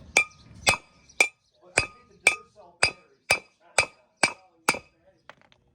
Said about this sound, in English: I might need a bigger hammer so I don't have to work so hard.